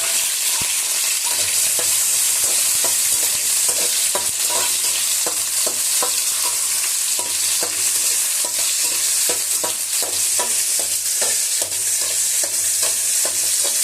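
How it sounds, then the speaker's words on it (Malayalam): Onions, tomato and green chili sizzle in hot oil in a pan, a steady loud fry with frequent sharp scraping stirs throughout and a low hum underneath; no talking. "എണ്ണ ഒഴിച്ച് ഉള്ളിയിട്ടങ്ങ് വാട്ടണം"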